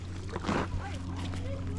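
Water sloshes about inside a leaking kayak on a beach outing, a brief swishing surge followed by softer movement, heard close under a steady low hum with people talking nearby.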